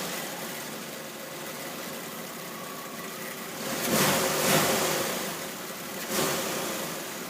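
A 1990 Cadillac DeVille engine idles steadily at a low, even hum, then swells twice in brief revs before settling back to idle.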